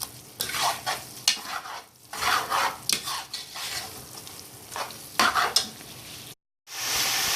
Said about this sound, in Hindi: फिर हम गाजर को इसमें अच्छी तरह से भून लेंगे।